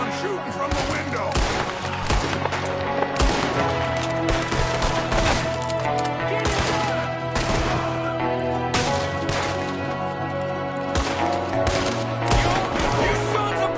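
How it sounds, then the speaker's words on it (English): Gunfire in a Red Dead Redemption 2 shootout, with dense, sustained volleys of shots cracking almost continuously from several guns, loud and close, mixed with shouting voices and a game score underneath. "There's another one shooting from the window."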